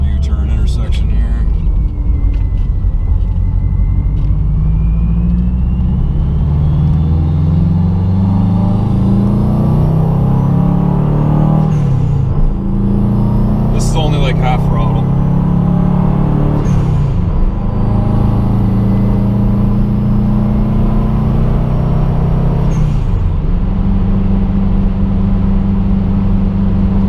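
A car swings through a quick U-turn at an intersection, its engine droning steadily and shifting pitch as it slows, turns and accelerates away, with road rumble throughout.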